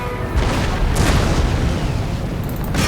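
Cannon fire in Empire: Total War (Darthmod mod) during an Ottoman Empire battle: a few heavy, booming blasts spaced across a few seconds, loud and rumbling over continuous battlefield noise.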